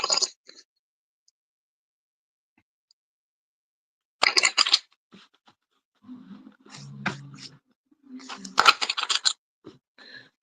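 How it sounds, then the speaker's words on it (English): A deck of oracle cards is shuffled by hand in short, crisp bursts of riffling and sliding separated by near silence, close and fairly quiet, with a few soft murmurs between. "I'm just gonna shuffle this real quick."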